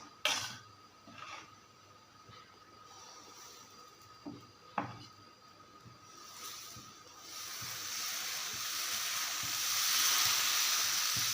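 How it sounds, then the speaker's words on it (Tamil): Green gram dosa batter meeting a well-heated griddle; a soft hiss builds and swells into a steady, close sizzle after a few quiet moments punctuated by small knocks. "கல் வச்சாச்சு, நல்லா சூடாயிருச்சு. நம்ம நார்மலாக தோசை ஊற்றுற மாதிரி ஊற்றிட வேண்டியதான்."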